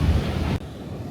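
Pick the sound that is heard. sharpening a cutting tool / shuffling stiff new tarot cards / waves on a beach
waves on a beach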